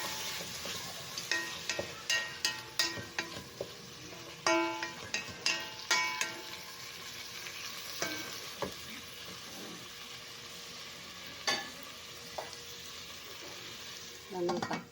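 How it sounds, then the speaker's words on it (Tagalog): Pork sizzles and fries in a pan for adobong kangkong with kalamungay, with repeated sharp utensil scrapes and clicks as it is stirred over a steady, close frying hiss. "Ito na, i-mix na natin ang pork."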